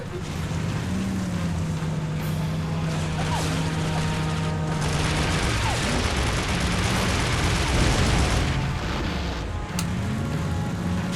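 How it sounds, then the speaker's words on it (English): James Bond 007: Nightfire game combat audio with a steady snowmobile engine drone, scattered explosive bursts and mounted machine-gun crackle throughout, loud and continuous. "Plenty of explosions."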